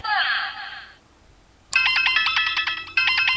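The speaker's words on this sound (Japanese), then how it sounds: "電話？" A telephone rings close by in repeated bright electronic bursts, starting after a short tone and a pause and continuing through to the end.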